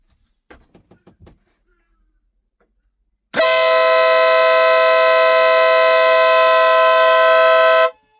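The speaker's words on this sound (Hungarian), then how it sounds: "hallgassuk meg élesben, hogyan szól a légkürt" A 12V air horn wired up as an off-grid alarm blasts one loud, steady, sustained honk for about four and a half seconds, then cuts off sharply. A few faint knocks come before it.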